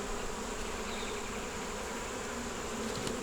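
Honey bees crowd a hive entrance carrying in orange goldenrod pollen, filling the air with a dense, even buzzing drone at moderate volume and no talking.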